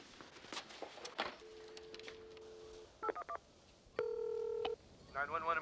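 A telephone keypad dialing 911 gives a few short electronic tones, one long steady tone and a burst of quick beeps, with faint footsteps and room noise between them in a quiet indoor scene.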